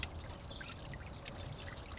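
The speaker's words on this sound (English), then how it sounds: "he put that little leaf on that stick so the water would splash out more. Make a nice sound." A small garden fountain splashes into its basin, water spilling off a little leaf set on a stick, giving a soft, steady trickling patter at low level with no talk.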